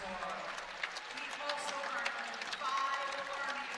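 Crowd at a women's wrestling dual meet applauding a military honoree, a dense, moderately distant wash of clapping and cheering over a public-address voice.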